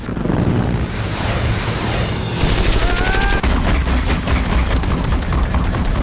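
Dense, loud movie gunfire from the 2009 film Avatar fills the clip, with rapid bursts and booming impacts layered over a roaring background and a brief metallic whine.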